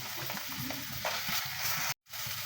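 Two bay leaves fry in oil with cumin paste and garlic paste, as fish is being cooked. A soft, steady sizzle runs beneath faint stirring scrapes, briefly cut off near the end, and no one speaks.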